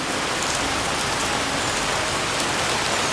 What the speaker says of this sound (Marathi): पाऊस बघा तुम्ही बापरे एवढा पाऊस लागतो ना की विचारू नका